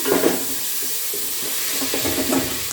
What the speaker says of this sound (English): We've added the tomatoes, then we stir.